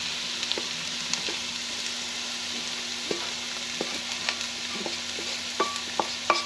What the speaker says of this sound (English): we're going to take our sausage and we're going to put it back in there